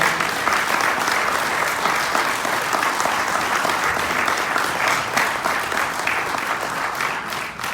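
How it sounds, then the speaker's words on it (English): A crowd claps and cheers continuously, a dense, loud wash of applause that holds steady from start to finish. "give yourself a round of applause"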